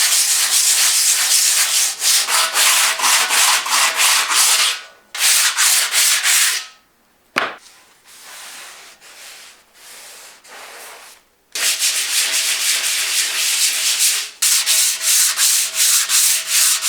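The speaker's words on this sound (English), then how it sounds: "starting with the tedious process of sanding it down with water paper" Sanding primer on a cast iron table saw top with water paper: long, steady, hissing rubbing strokes, close and loud, broken by a few short pauses and a brief knock in the middle.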